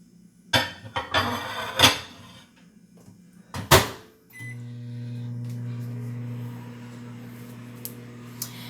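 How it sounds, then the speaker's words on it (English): A few clatters and a door clunk, then a microwave oven starts reheating steak nachos with cheese and hums steadily with a low drone. "We're going to go back in the microwave."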